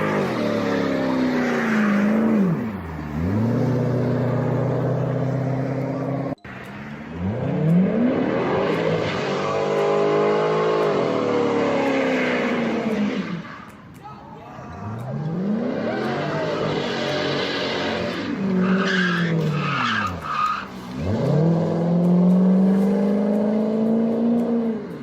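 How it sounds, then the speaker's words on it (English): A Corvette doing burnouts on a street, its engine revving loudly in long sustained pulls that rise and drop again, with tyre squeal and a few sharp breaks between runs. "we have a Corvette who does burnouts on the street"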